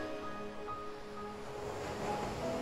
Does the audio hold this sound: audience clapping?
no